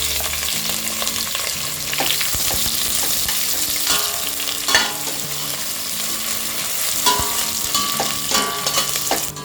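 Sliced onions fry in a pot on a low flame with a steady, loud sizzle and occasional stirring scrapes, close up and with no talking.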